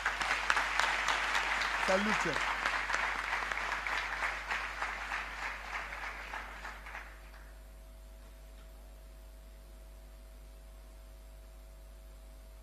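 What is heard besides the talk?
applause for people seated and standing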